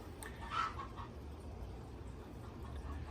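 A hen clucks in a short burst near the start, then goes quiet over a steady low background hum, with no talking.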